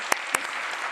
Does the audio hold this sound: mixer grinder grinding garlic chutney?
no